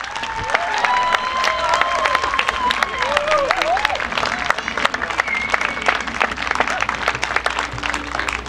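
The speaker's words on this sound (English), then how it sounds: "Let's give these great members a warm round of applause." Sustained applause from a large crowd at the opening ceremonies of a Cape Breton fiddling festival, dense steady clapping throughout with a few whistles rising above it.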